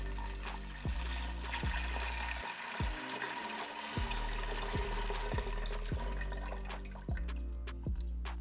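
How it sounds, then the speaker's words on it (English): Water pours into an Instant Pot holding beans, a continuous splashing stream broken by a series of short drops and knocks, close by and fairly quiet, with no talking. "And last, we're gonna add 4 cups of water."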